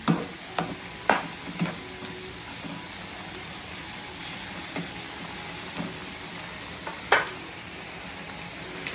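Squid stuffing sizzling in a pan with a splash of soy sauce while a utensil stirs it, a steady low fry broken by several sharp scraping clicks, close and fairly quiet with no talking.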